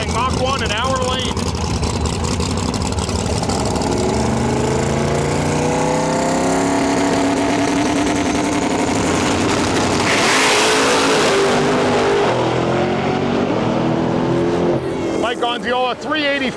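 Pro Mod drag cars at Rocky Mountain Nationals, a Nitro C7 and a Turbo Mustang Mach 1, launching with loud rising engine howls that sweep upward, then a burst of roar and noise as they pull away, with a voice over it.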